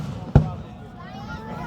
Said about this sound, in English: I love it when they shape fireworks like that.